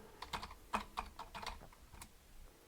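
Quick, light clicks from a computer keyboard as a password is typed on a Raspberry Pi 4 setup, about a dozen close, quiet keystrokes in an uneven run.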